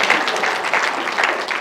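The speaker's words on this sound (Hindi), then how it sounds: "तो तालियां बजा दो" Loud, dense applause from the audience at a Hindi poetry gathering (kavi sammelan), a brief sustained burst of many hands clapping close by.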